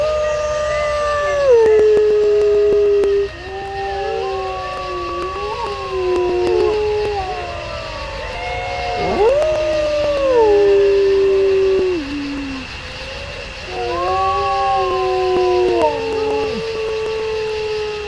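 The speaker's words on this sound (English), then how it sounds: "Our next video is a guy catching footage of wolves howling." Several wolves howl together outdoors in long, overlapping, gliding wails that rise and fall in pitch, loud and close, with a few yips mixed in over a steady background hiss.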